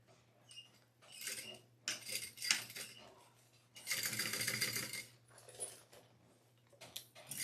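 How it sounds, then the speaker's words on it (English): A sewing machine runs long basting stitches on a Plover Pouch panel, starting and stopping in several short whirring bursts, with the longest run near the end and quiet pauses between. "And I'm just basting because there's going to be another stitch in a minute."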